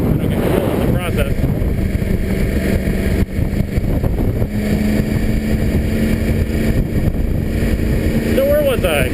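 Yamaha R1 sport motorcycle being ridden at speed around an airport, a steady loud engine drone with heavy wind buffeting on the microphone throughout, speech mixed in over the noise.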